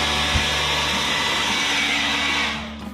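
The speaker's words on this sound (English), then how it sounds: "Blow dryer." A handheld hair dryer blows steadily to melt stubborn ice from an RV fridge, a loud continuous motor whir and rushing air that cuts off near the end.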